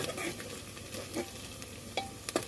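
Onions sautéing in a pan for spicy rice, with a steady low sizzle and a few scraping stirs of a spoon against the pan, close and fairly quiet, with no talking.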